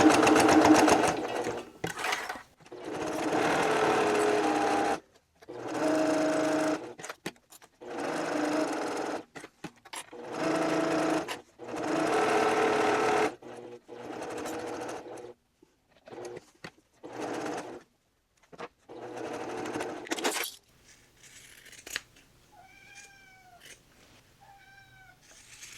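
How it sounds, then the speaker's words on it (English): A sewing machine top stitches around a fabric bookmark in long loud runs broken by short pauses, and near the end a cat meows several times in the quiet. "We're going to top stitch all the way around with a 1/4 inch seam"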